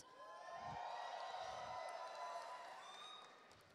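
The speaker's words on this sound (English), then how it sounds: "Give them a round of applause." Audience at an esports match, a Gears of War pro circuit open in Mexico City, applauding and cheering; a dense sustained wash of clapping and crowd noise swells then slowly fades, fairly faint overall.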